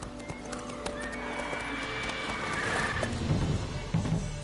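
Roach the horse in The Witcher 3 whinnies with a drawn-out neigh while hooves clop beneath it, the game's ambient backdrop steady and no voices over it.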